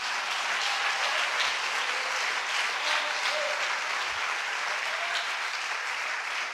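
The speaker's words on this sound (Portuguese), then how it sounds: "Você pode aplaudir o Senhor pela vida deles?" Congregation clapping during a church anniversary service, a dense, steady round of applause that fills the room without a pause.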